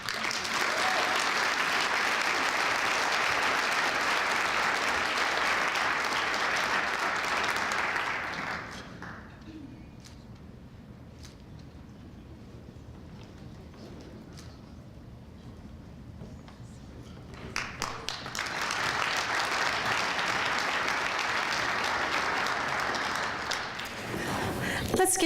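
Audience applause at a Heroes of Education 2018 awards ceremony for college honorees, a dense steady clapping that fills the room, breaks off into a quieter stretch with a few scattered claps, then swells back to full applause.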